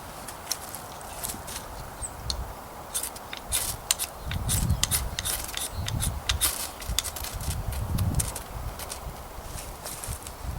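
The spine of a Condor Bushlore bushcraft knife scrapes repeatedly against a fire starter rod in damp outdoor conditions, giving sharp, irregular rasping strikes over a low rustling background.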